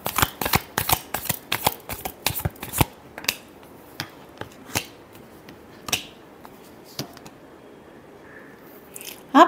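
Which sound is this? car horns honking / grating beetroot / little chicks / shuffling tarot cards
shuffling tarot cards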